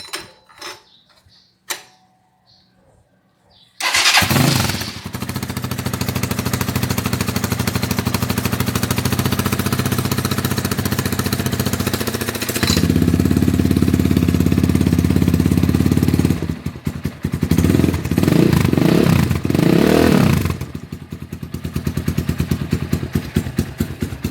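A Rusi Sigma SS250 motorcycle fitted with a Yoshimura replica exhaust and its baffle installed starts after a few clunks, then idles with a loud, steady, throbbing single-cylinder note and some brief revs near the end.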